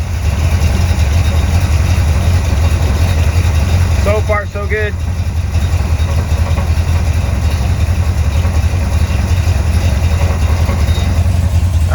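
An engine idles steadily and loudly at close range just after a copper oil pressure line has been installed, a continuous low rumble running throughout, with someone briefly speaking over it.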